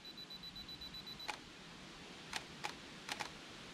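A camera shutter fires a timed burst of bracketed exposures at 1 second each with a 24mm lens: a lone click, then a spaced cluster of four or five sharp, quiet clicks over a faint steady background tone.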